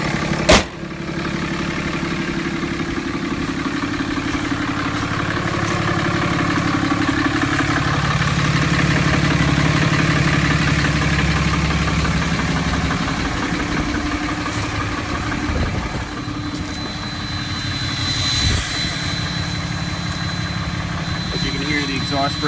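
A 2008 Dodge Ram 3500 with a 6.7 Cummins turbo diesel, 4-inch turbo-back exhaust and exhaust brake engaged idles with a steady low rumble, while a thin, high turbo whistle rises faintly near the end.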